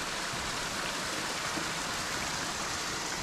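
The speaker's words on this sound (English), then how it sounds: "A little bit of a babbling brook." A small mountain brook on a trail from Kennedy Meadows to Relief Reservoir, flowing as a steady, even wash of water that stays constant and fairly close, with no voices over it.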